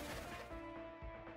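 Rapid gunfire in the video game Kirby and the Forgotten Land, a loud, dense burst of repeated shots over a sustained tonal game sound.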